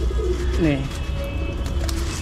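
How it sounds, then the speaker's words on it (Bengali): Pigeons from a neighbouring house coo close by while feeding, giving a short throaty burst of two or three soft rolling notes over steady background hum. "পাশের বাড়ির কবুতর, পাশের বাড়ির আন্টির কবুতর খুব ডিস্টার্ব করে।"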